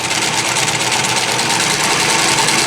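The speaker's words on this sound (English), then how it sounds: "I'll let you see it stitch a little bit" A Janome L 393 sewing machine runs a serger-like edge stitch, giving a steady, fast, even mechanical whir with rapid needle chatter, close and continuous with no pauses.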